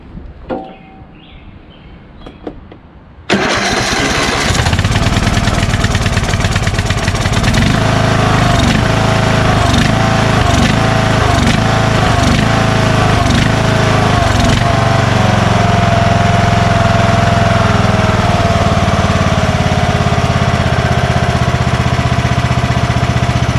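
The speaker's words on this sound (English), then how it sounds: "This is the lowest idle right here." A Craftsman 20HP DLS3500 lawn tractor engine starts up and then runs loud and close at a steady low idle, its chugging rumble continuing alone without letup.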